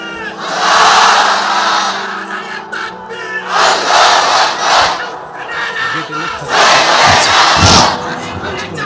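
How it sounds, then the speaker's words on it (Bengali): Large crowd at an Islamic sermon (waz) shouting the takbir in loud unison, three surging bursts of massed voices with short pauses between. "সবাই একটা তাকবীর দেন, লিল্লাহি তাকবীর"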